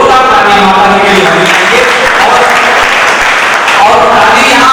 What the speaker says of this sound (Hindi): मैं चाहता हूँ जोरदार तालियां माता जी के लिए